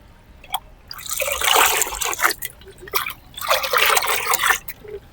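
Water pours and trickles in uneven bursts, splashing close by with short drips between two longer pours.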